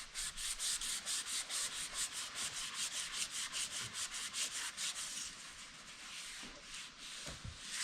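Hand sanding of a vehicle body before painting: a steady, rapid back-and-forth rasping scrub, close and even, continuing for several seconds without talk.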